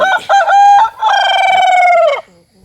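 A single loud, close crow from a young fighting rooster rings out in a long, drawn-out cock-a-doodle-doo, then fades into quiet.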